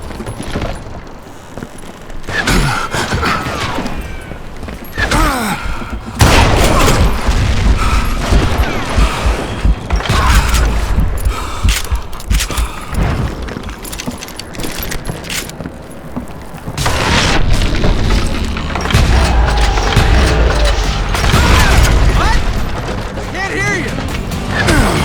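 Dynamite blasts in the Western shooter Call of Juarez: Gunslinger: loud, dense booms and crashing impacts mixed with gunfire, running almost continuously with brief dips and possible voices over the action.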